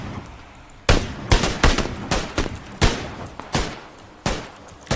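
SLR rifle fire in a shooter game, eight or so sharp, loud single shots spaced unevenly over a few seconds, each a bright crack with a short decaying tail.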